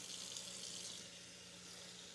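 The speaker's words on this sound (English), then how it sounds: "I am turning on the faucet" Tap water runs from a kitchen faucet into a cooking pot as a steady, quiet hiss of flowing water, continuous and close, with no voices over it.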